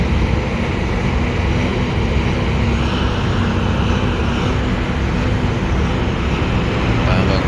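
A passenger airplane passes near an airport, giving a loud, steady roar of broad rushing engine noise that holds throughout, with faint background sounds.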